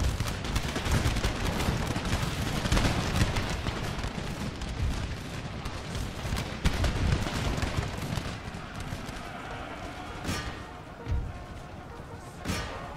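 Musket volleys crackle in the strategy video game Empire Total War, dense irregular gunfire and booms throughout the battle, loud at first and thinning toward the end.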